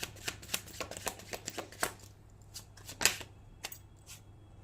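Tarot cards are shuffled by hand in a quiet room, giving a run of quick, crisp riffling flutters and soft slaps, with a brief pause between bursts.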